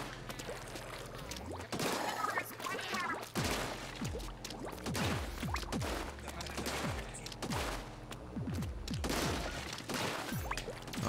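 Sniper shots ring out in the Splatoon 2 Octo Expansion game, a series of sharp, fairly quiet cracks and splats that come in irregular bursts over a constant low background.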